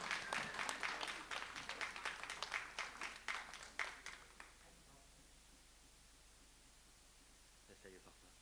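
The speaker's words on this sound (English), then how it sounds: "Can we make a huge, big round of applause and welcome for Hassan coming up?" A poetry jam crowd claps to welcome a poet to the stage, a fairly quiet round of individual claps that thins out and stops after about four seconds, leaving low room noise and brief murmuring.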